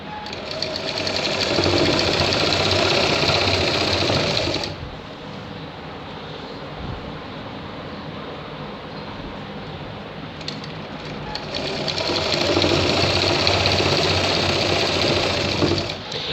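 A sewing machine runs loud and close while stitching a shirt seam, whirring in a dense steady burst for several seconds, easing to a quieter hum, then speeding back up to full stitching for the final stretch.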